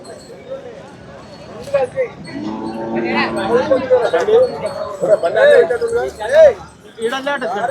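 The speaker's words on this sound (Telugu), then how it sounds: "ఇటు చూసినట్టయితే చాలా వచ్చినాయి ఆవులు అయితే" Several HF and Jersey cows moo loudly and close by at the Sardar Nagar cattle market, long low bellows overlapping with crowd chatter and people talking nearby.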